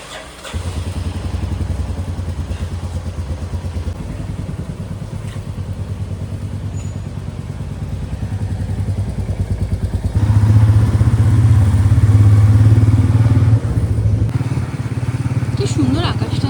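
A motorcycle ride, with the engine droning steadily and loudly up close throughout and briefly growing louder partway through as the bike accelerates, while people talk over it.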